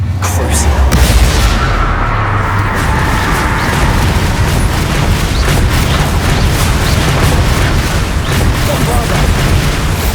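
Bombarda blasting spell explosions in the game Hogwarts Legacy, heard as a continuous loud rumbling barrage of booms and bursts with voices shouting through the chaos.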